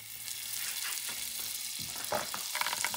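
Butter sizzles steadily in a hot pan turned down to just above medium heat, a continuous close crackle with small pops and spits growing busier toward the end, no voices.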